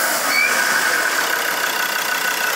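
An automatic transmission on a Ford Ranger / Mazda BT50 making a noise at 1500 rpm: a steady, loud broadband mechanical drone with a thin whine running through it, heard close up with no voices.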